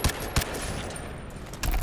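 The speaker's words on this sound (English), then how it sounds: "kill him by shooting him in the legs" Short bursts of in-game gunfire in Crysis 3 Remastered as an enemy is shot in the legs, a couple of sharp cracks early on and another burst near the end over a busy background.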